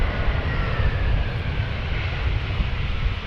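Trade Air airliner, flying for Croatia, at Amsterdam Schiphol Airport, giving a steady, moderately loud engine roar and rushing hum throughout with no talking.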